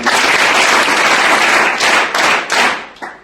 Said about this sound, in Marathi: आपण सगळेजण त्याच्यासाठी जोरदार टाळ्या